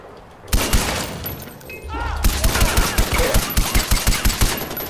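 Gunfire hits a wall in Far Cry 4, a loud sustained burst of rapid shots with a regular rhythm that gets punchier in the second half, heard beneath a player's commentary.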